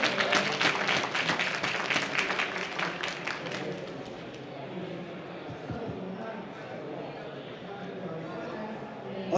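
An audience at a Slush Tokyo 2019 conference session claps loudly at first, then the applause thins out and fades into a quieter room murmur.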